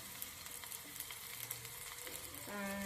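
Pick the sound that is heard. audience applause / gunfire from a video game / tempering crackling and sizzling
tempering crackling and sizzling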